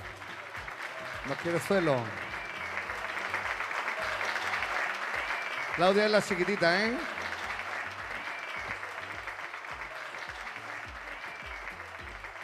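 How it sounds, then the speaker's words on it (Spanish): Audience applause for a two-year-old girl at a children's gala crowning a queen and knight at the Virgen de la Cruz fair, sustained clapping from a crowd while a presenter talks over it on a microphone. "Uy, un aplauso para Claudia."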